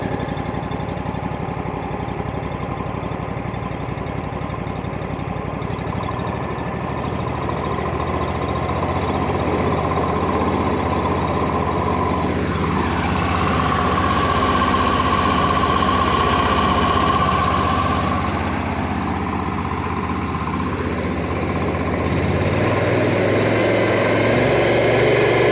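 A Honda IGX 800 engine on a 10 gpm, 3000 psi pressure washer warms up at idle with the ball valve open, a loud steady close-up rumble that holds for over twenty seconds with slight shifts in tone.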